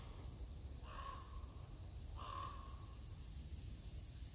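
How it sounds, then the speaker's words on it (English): A bird calls twice, a harsh cawing note each time, spaced a second apart over a steady hum of insects in quiet woods at Manassas Battlefield. "If anybody knows what that bird is, let me know."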